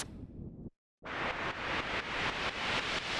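A burst of white noise cuts off, then returns as a loud hiss that swells in repeated rising surges, growing brighter over a few seconds, a music production riser effect.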